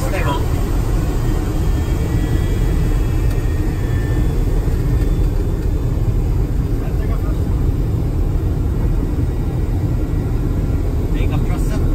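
A Boeing 737-200 Combi's jet engines roar steadily at takeoff thrust on a gravel strip, a loud continuous broadband rumble heard from inside the aircraft, with cockpit voices faintly under it.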